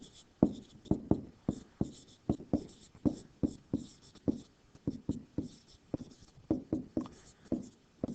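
A pen or marker scratching out a math formula by hand, with quick irregular strokes and taps at close range and no talking.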